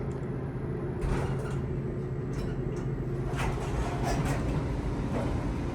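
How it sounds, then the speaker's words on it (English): A Kone hydraulic elevator door opens roughly, with scraping, rattling clunks and brief sliding bursts heard close over a steady mechanical hum and no talk. "I'm gonna let you get a close listen to that rough door opening"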